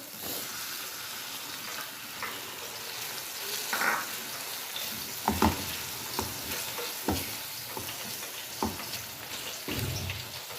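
Ginger garlic paste sizzles and fries steadily in a pan as tomatoes are added, with a constant crackle, scraping stirs and occasional clinks from a utensil.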